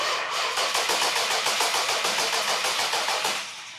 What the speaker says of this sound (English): So please crank the engine over.